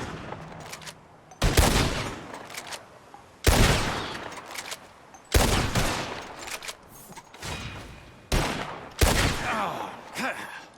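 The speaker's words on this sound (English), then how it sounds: "As soon as you see them, start shooting" Loud gunfire bursts in Red Dead Redemption 2, six sharp volleys spaced a second or two apart, each cracking hard then trailing off into a short echoing decay, with quiet gaps between.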